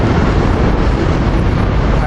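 A four-car Silver Line commuter train pulls away toward Thorndale. It makes a loud, broad rumble and roar that stays steady throughout, with wind buffeting the microphone.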